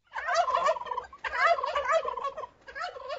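Cartoon turkeys gobble in three rapid, warbling bursts, loud and close, with short pauses between them.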